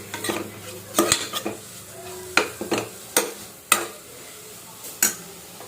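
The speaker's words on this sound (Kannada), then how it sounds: "ಕೊತ್ತಂಬರಿ ಸೊಪ್ಪು ಹಾಕ್ತಾಯಿದ್ದೀನಿ ಸ್ವಲ್ಪ. ಅದಕ್ಕೆ ಬಾಡಿಸ್ಕೊಳ್ಳೋಣ ಸ್ವಲ್ಪ." Coriander leaves sauté in a pan for palak paneer rice as a spoon stirs. Oil sizzles softly while sharp metallic scrapes and taps of the spoon against the pan come in an irregular rhythm, close up.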